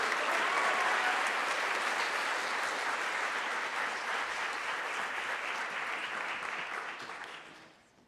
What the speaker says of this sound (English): Let's give a round of applause to all our scholarship winners